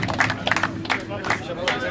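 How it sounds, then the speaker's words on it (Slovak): Applause at an award ceremony for the PRENGO CUP 2013 tournament, a crowd clapping steadily and fairly close, with speech running over it. "veľký potlesk, poprosím vás, veľký potlesk"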